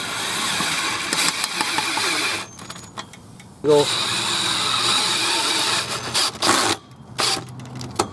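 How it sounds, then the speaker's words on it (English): A power drill whirs loudly in several sustained bursts, cutting off and restarting with short pauses, as deck screws are driven at an angle into the boards of a sagging wooden gate. "drill it kind of at an angle"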